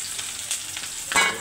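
Onion and spice masala hits hot oil in a kadai, giving a brief close sizzle with soft crackling that swells into a louder hiss at the end, no talking.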